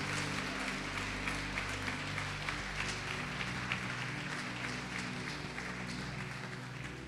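Church congregation applauding in worship, a faint, steady wash of clapping beneath sustained organ or keyboard chords, distant and low in level.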